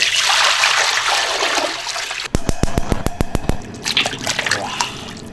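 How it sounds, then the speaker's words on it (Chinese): Water pours from a tap into a cooking pot: a rushing stream at first, then a series of sharp splashing drips and a trickle, close by and without voices. "锅里加水。"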